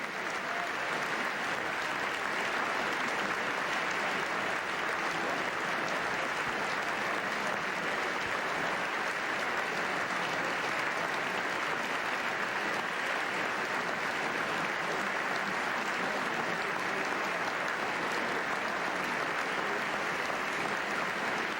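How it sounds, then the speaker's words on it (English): Thunderous, sustained applause fills the chamber of the U.S. Congress during a presidential address after the September 11 attacks, with cheers and whistles blended into a dense, steady roar throughout. "Mayor Giuliani and New York Governor Pataki was met with thunderous applause, cheers, and whistles."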